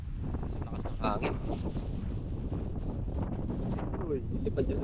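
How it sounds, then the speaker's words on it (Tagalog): Strong wind by the sea buffets the microphone in a steady rough roar, with faint voices underneath. "Sa lakas ng hangin."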